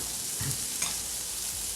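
Steady, broadband sizzle of pork frying on a hot grill pan, continuous and close, with a couple of brief scraping stirs partway through.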